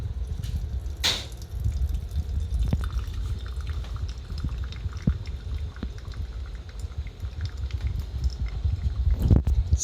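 Hot water is poured into a Chemex glass carafe to preheat it, a steady close splashing wash of liquid lasting throughout, with a few small clinks.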